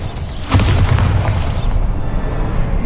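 A Bombarda spell blast in Hogwarts Legacy: a single loud, deep boom that erupts suddenly and trails off into a long rolling rumble.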